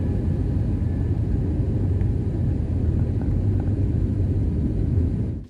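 A steady low rumble of an airplane in flight fills the clip, loud and constant throughout, with no voices, fading out at the end.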